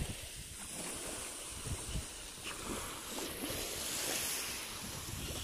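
Seaside surf and wind along the shore, a steady broadband wash with gusty rumble in the low end that holds continuously and fairly loud with no voices.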